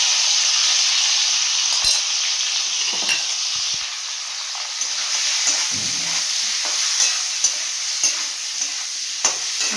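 Dried fish (shutki) fries over high heat in a pan, a loud continuous hissing sizzle broken by scraping stirring strokes and light clinks of the utensil against the metal.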